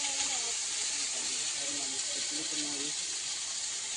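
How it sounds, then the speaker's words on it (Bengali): A soft, steady sizzling hiss of fish frying in a wok goes on throughout, with faint talking underneath in the first few seconds. "মা ওদিকে কড়াইতে কিছুটা ভাজা চলছে।"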